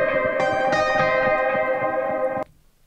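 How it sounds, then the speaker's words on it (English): A sustained synth tone from the Stingray Instruments Majesty for Omnisphere, with a mod-wheel rhythmic wobble and gritty distortion, loud and alone, cutting off abruptly near the end. "So the mod wheel is adding the wobble. A bit of distortion."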